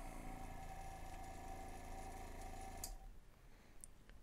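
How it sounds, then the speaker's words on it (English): A small affordable airbrush kit's compressor hums and rattles steadily at low volume, then cuts off abruptly about three seconds in, leaving near silence. "So here goes the compressor."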